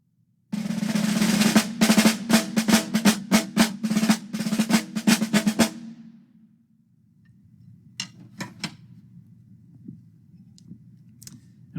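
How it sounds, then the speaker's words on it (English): Sticks drum quickly on a practice drum pad, producing a burst of crisp, rapid taps and rolls for about five seconds before stopping, leaving a low hum and a few light clicks. "The drum pad skills will relate to the snare drum as well as several other instruments"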